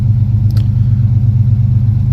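A 1996 Chevy S10 with a new exhaust idles loudly and close, its deep, steady rumbling pulse unbroken and throaty throughout.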